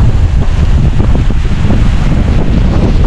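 Powerful gusts and pounding waves from a rising river during Super Typhoon Uwan, a constant, heavy rush of wind battering the microphone over turbulent water, close and unbroken.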